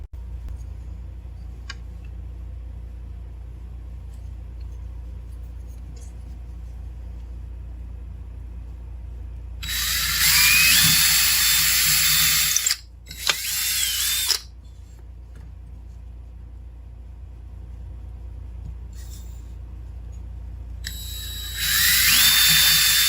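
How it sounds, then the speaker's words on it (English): A power drill whines loudly in two bursts with a brief pause between, then starts up again near the end, over a low steady hum. "So I'm going to drill 2 holes"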